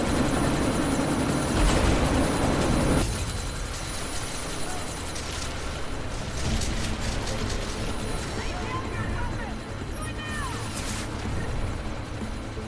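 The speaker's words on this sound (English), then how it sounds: "That chopper's about to take off." A helicopter in the Deus Ex: Mankind Divided game sits ready to lift off, its loud rotor and engine roar holding steady alongside mechanical clatter, while voices talk over the din.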